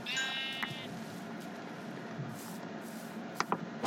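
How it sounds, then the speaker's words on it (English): A Minecraft sheep gives one short, wavering bleat at the very start. Quiet game ambience and a few faint clicks follow. "Okay, there's sheep."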